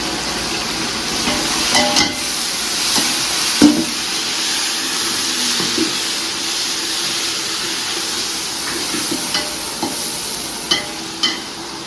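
Mint and coriander leaves fry and hiss in a pan for mutton biryani, a steady sizzle with scattered clicks and scrapes of a stirring spoon against the pan, close up and without voices.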